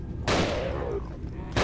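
Gunfire in the horror video game Nightmare House 2, two loud close shots with the first ringing out into a decaying tail before the second cracks at the end.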